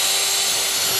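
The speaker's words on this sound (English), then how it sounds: "I'm going to take my drill." A handheld power drill bores a hole while fitting a hose hanger, a loud, continuous whine held at one pitch throughout with no voices.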